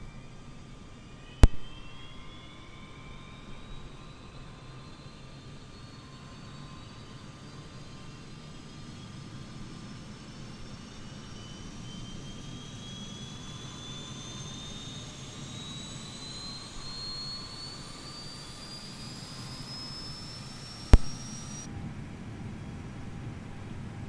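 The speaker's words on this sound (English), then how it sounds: "Let's go outside the plane so you can hear the plane start up." An Airbus A320neo auxiliary power unit starting up in Microsoft Flight Simulator on Xbox Series S, heard from outside the aircraft: a steady turbine whine climbs in pitch over a low rumble, with a sharp click at the start and another near the end.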